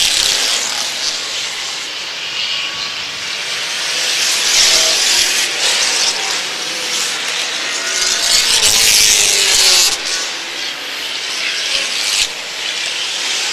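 Race cars at lap 35 of a stock-car race sweep down the front stretch in a big pack, a loud sustained engine roar swelling and fading past the stands, with no voices.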